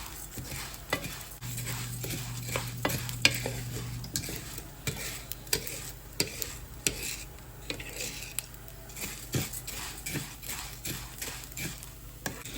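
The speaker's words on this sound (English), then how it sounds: "you're not gonna stop moving the rice" Rice stirred and toasted in a hot pan, a steady low sizzle broken by frequent scraping and clinking of a utensil against the pan, close and busy throughout.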